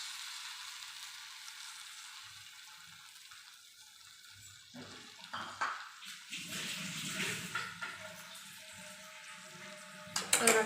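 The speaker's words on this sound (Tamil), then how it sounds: "இதுக்கப்புறமா நம்ம எடுத்து வச்சுருக்க புளி தண்ணி ஊற்றிக்கலாம்." Tamarind water is poured into a pan for an okra tamarind curry. After a quiet start, a splashing pour begins midway, followed by a soft sizzle and bubbling, close and moderately loud.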